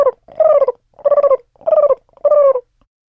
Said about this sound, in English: Coo, coo, went the pigeons.